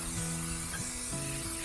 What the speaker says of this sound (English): always make sure you spray it first.